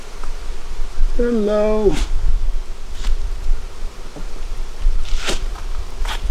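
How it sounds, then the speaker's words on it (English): Honey bees buzz in a packed, crowded beehive, a steady close hum that runs throughout while a voice speaks briefly near the start. "This is a packed hive. This hive has a lot of bees in it."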